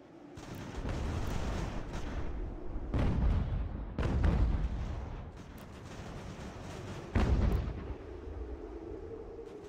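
Cannon artillery fire in the Ultimate General: American Revolution video game, several deep booming blasts at irregular intervals over a continuous rumbling battle din.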